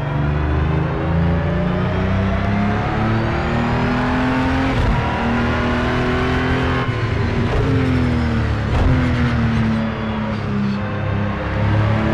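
An Acura NSX GT3 race car in Project Cars 2 at Daytona drones steadily at high revs, the engine pitch rising and falling through gear changes without a break, loud and close.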